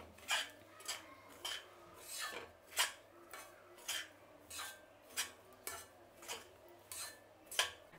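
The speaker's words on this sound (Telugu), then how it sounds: "కాబట్టి రవ్వ వేసినాక ఇట్లా కలబెడుతూ ఉండాలి." Semolina (rava) dry-roasting in a pan on a medium flame, stirred with a utensil in repeated rasping scrapes about once a second, close and clear with no talking.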